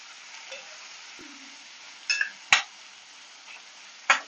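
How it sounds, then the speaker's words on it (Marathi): Tomatoes sautéing in a pan for an okra masala, with a soft, steady sizzle under a few sharp clinks of a spoon against the pan, close and quiet. "मिनिटभर आपण टोमॅटो व्यवस्थित परतून घ्यायचा आहे मऊ होईपर्यंत"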